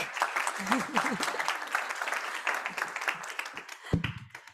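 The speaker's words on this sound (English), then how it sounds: "Let's give it a round of applause to Zebra Crop Bank." Audience applause at a startup innovation awards final, steady dense clapping through the clip with a host's voice heard over it and a louder burst near the end.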